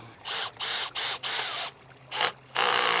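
A ratchet tightens a pipe fitting during a garden spring-water pump replacement, clicking close in short bursts of rapid pawl clicks. About six separate strokes come with short pauses between them, and the last one is the loudest.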